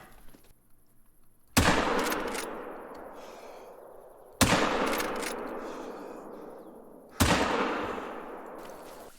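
Three heavy 45-70 Coachmate rifle shots fired at a Cape Buffalo in the hunting game Call of the Wild, each a loud sharp crack with a long rolling echo, spaced about three seconds apart.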